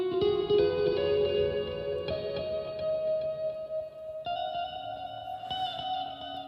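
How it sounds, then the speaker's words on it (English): Sustained electric guitar chords drenched in a spacey echo stack preset from Logic, the ringing notes smearing into long repeating trails and reverb, with a new chord struck every couple of seconds. "I'd use this echo stack, which is one of the presets on Logic"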